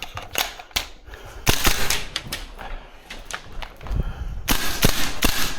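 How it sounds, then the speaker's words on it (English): VFC URGI V3 gas blowback airsoft rifle firing in tight indoor spaces, a series of sharp close cracks in uneven bursts with short pauses between, loud and alone. "Just gives you a initial indication where the gun's firing."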